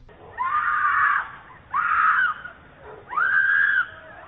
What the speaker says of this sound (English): Residents heard those screams and called 911.